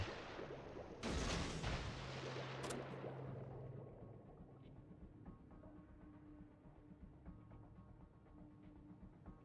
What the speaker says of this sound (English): So I'm firing off torps in the general direction of wherever the RPF is indicating.